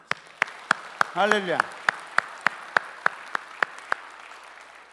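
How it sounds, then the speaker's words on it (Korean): Applause from a church congregation at a Christmas Sunday service, heard as sparse, evenly spaced claps standing out at moderate loudness, with a voice speaking briefly in the middle. "격려의 박수."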